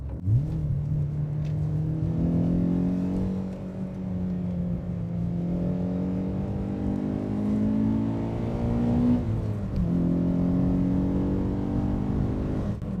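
A Citroën Saxo VTS engine revs and accelerates steadily, its loud droning pitch climbing, dipping briefly near the end, then rising again; close and continuous, no talk.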